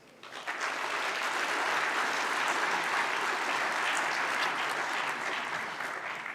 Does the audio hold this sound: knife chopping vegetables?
no